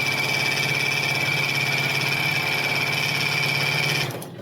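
A sewing machine runs steadily while stitching a quilt seam, a close continuous motor whir with a high mechanical whine that stops abruptly near the end.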